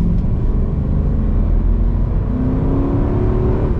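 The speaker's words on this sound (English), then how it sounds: "We'll do like a mild pull as like medium acceleration." A sleeper daily-driver car accelerating in a medium pull, engine droning loud and steady throughout, with a rising tone creeping up near the end.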